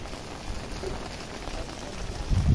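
Heavy rain falling steadily around a market stall, a constant soft hiss of drops on surfaces with no voices, swelling slightly louder toward the end.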